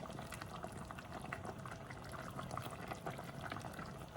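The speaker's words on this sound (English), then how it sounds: "you just turn off the stove and let it simmer" Thai green curry simmers in a pot on the stove, a continuous, close bubbling and popping that stays even throughout.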